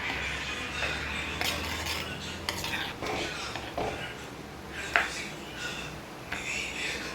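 A spoon stirs yogurt into bottle gourd pachadi in a pot on the stove, giving close, soft scraping and swishing strokes with a light clink of metal now and then.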